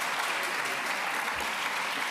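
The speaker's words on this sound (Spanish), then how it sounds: "Está muy bien ese aplauso" Audience applause at a talk on globalization and journalism, a dense, steady wash of many hands clapping, close and even in loudness for the whole short stretch, with no voices standing out.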